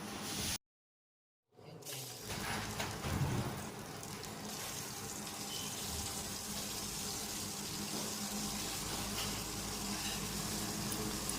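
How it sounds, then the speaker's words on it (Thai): Red curry paste stir-fried in oil for a Thai pork red curry, a steady close sizzle and frying hiss running continuously after a brief silent gap, with occasional stirring scrapes and no talk. "ก่อนอื่นก็ผัดพริกแกงนะคะผัดพริกแกงให้หอมก่อนนะคะเพื่อน ๆผัดพริกแกงกับน้ำมันนะ"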